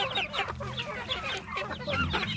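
Several chickens cluck busily close by, their short overlapping calls filling the whole stretch.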